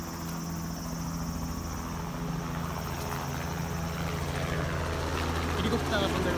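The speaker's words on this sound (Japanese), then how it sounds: "ヘリコプターが飛んでる。" A helicopter passes overhead above a blueberry-picking farm, its steady low rotor drone and engine hum continuing throughout at moderate distance, with faint outdoor ambience.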